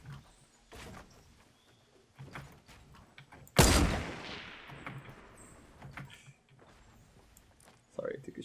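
Gunfire from a firefight in Fortnite, a sharp loud burst followed by a decaying rumble with scattered softer shots before and after, heard beneath intermittent talking.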